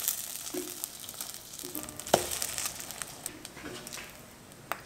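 French toast frying in butter in a pan, a steady soft sizzle with light patter and a few scraping clicks from a spatula, close and moderately quiet throughout.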